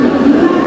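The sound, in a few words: local train arriving at station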